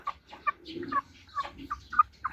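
Two mixed-breed Brahma hens, about two months old, give a series of short, close clucks in quick irregular succession, with no talking.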